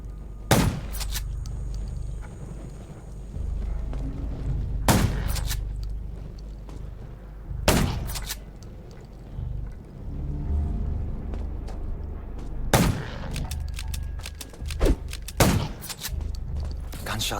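Gunfire in the video game Undawn: about six sharp, loud single shots spaced a few seconds apart over a low ambient rumble, with no talk.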